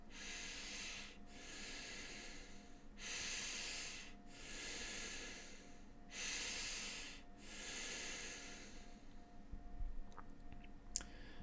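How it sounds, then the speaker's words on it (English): Three deep breaths are drawn in and out slowly and close up, each a long airy hiss separated by short pauses, with small clicks near the end. "And we take 3 deep breaths in and out."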